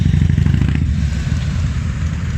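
Motorcycles at a rally in Rüdesheim, Germany, with a close engine giving a loud, pulsing rumble that settles into a steady drone.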